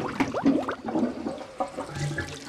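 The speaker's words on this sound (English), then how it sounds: "I'm gonna flush." A household toilet flushing in a bathroom during a comedy scene, the water rushing with short bursts and gurgles, heard fairly close behind overlapping voices.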